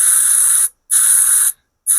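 Three loud, close bursts of hissing spray from an aerosol can of sticky liquid used while reviving a 1999 RM 125 motorcycle, each about half a second long and separated by brief silences.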